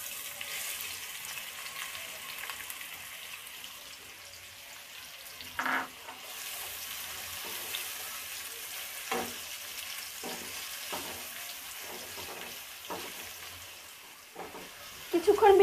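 Chopped onions fry in oil with black peppercorns for mutton kosha, a continuous sizzle broken by periodic scraping clacks of a spatula stirring the pan.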